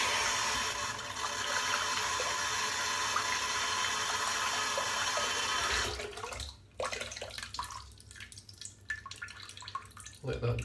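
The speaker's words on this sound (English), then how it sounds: "I'm just going to rinse off the puck." Tap water runs steadily over a shaving soap puck for about six seconds, then cuts off, leaving quieter dripping and handling sounds from the rinsed soap.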